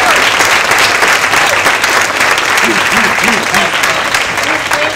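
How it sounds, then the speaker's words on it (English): Loud, steady applause from a high school science symposium audience honoring student researchers, dense clapping throughout with a faint voice briefly audible partway through. "can you join me in giving them a big round of applause?"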